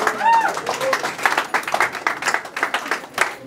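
An audience at a birthday celebration claps for a woman named Myriam, producing a steady wash of hand claps that lasts about three seconds. Voices can be heard talking over the applause.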